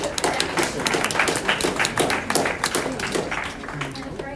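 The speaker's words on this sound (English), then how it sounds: "I'll give that a round of applause" Clapping from an auction crowd, a sustained round of applause with dense overlapping claps running steadily throughout, under faint background talk.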